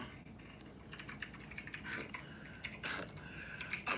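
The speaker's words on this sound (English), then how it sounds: "I'm just typing" Quiet, close typing on a computer keyboard, a steady patter of key clicks with a few louder strokes scattered through the few seconds, no voices.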